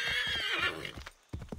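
A horse in the Assassin's Creed III video game neighs loudly in a long, wavering whinny, then a few short snorts and soft hoof sounds follow after a brief pause.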